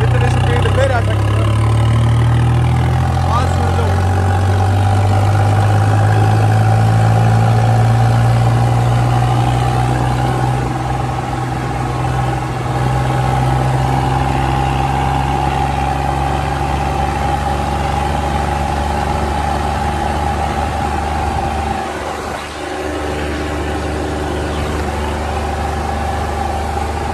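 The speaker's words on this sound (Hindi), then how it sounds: "कितनी ओवर रेस हो रही ट्रैक्टर की" A tractor engine with a modified pump over-revs steadily at high revs for the whole stretch, a loud, constant droning hum with a slight dip near the end.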